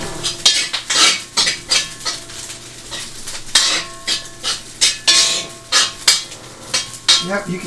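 Chicken and beef fried rice stirred in a hot pan: a metal utensil clatters and scrapes in quick, irregular strokes, with a faint sizzle beneath.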